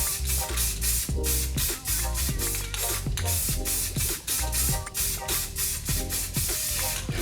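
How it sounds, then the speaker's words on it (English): An aerosol spray paint can hisses in short, rapid bursts with brief pauses between strokes, close and fairly quiet, with no talking. "Once you've shaken for a legit 2 minutes, you're ready to spray."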